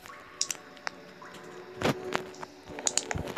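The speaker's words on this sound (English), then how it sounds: "I just kind of hear like leaking." Sparse drips and small wet squishes of leaking water in a sewer setting within the horror video game Nightmare in the Sewer, scattered taps and splashes against a quiet, faintly humming background.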